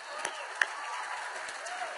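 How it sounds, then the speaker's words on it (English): Faint, steady applause from a small audience at a product presentation, a soft continuous patter of clapping with a few sharper claps, heard at a distance. "Everybody give Leah a round of applause."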